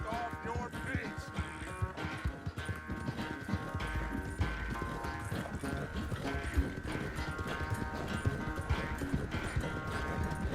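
Horse hooves clip-clop steadily in Red Dead Redemption 2, a continuous rhythmic trot with an occasional whinny, fairly faint beneath a low musical drone.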